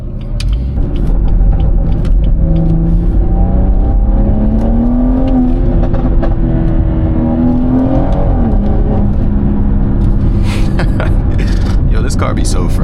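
A catless BMW 440i accelerating on a night drive, a loud close engine drone rising steadily in pitch over several seconds, easing off, then building again, heard from inside the car.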